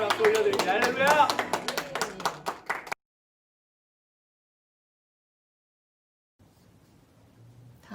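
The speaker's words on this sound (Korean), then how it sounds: "주님께 영광의 박수 올려드립니다" Brief applause from a church youth congregation during a worship service, a burst of clapping lasting about three seconds with voices mixed in, then near silence with faint room noise.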